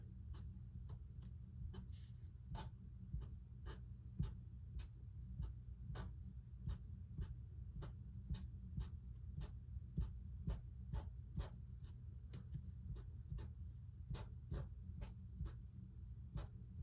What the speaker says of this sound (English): So I'm just going to draw some spikes on these ones,